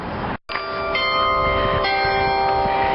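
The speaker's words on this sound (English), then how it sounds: "sounds wonderful though, the Glockenspiel" The Frankenmuth Glockenspiel rings outdoors, its bells sustaining steady overlapping tones with a brief cut early on, then continuing bright and resonant over a soft crowd and ambient noise.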